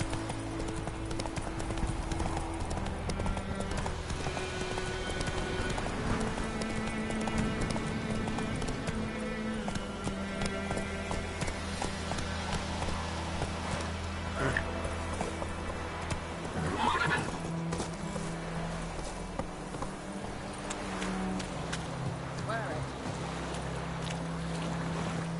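A horse's hooves clip-clop in a steady galloping rhythm in a video game, with a neigh partway through, set against game music and ambient wind and water sounds.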